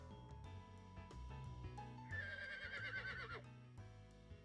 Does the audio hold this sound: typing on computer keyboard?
no